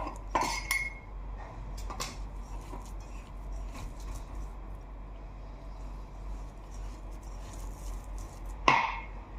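Eggs and orange blossom water being mixed into almond dough in a bowl, with scattered light clinks of utensil against dish, a couple of sharper knocks near the start and end, and quiet kitchen background.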